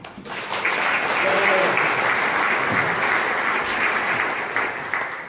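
An audience applauds Governor Fedriga after his speech at a Gorizia event on Friuli Venezia Giulia's health reform. The clapping swells into a steady, dense roar lasting about five seconds, then thins toward the end, with a faint voice briefly underneath.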